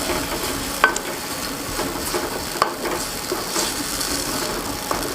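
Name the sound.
finely chopped onions frying and being browned in a pan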